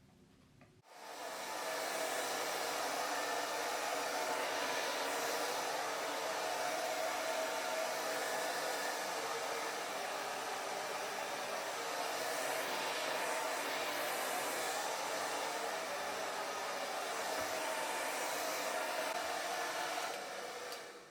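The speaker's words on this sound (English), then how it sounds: "That's what the blow dryer helps to do." A blow dryer fitted with a concentrator nozzle dries hair, switching on after a moment and holding a loud, steady, unbroken airy whoosh for about twenty seconds before cutting off.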